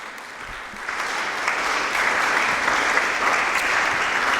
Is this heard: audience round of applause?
yes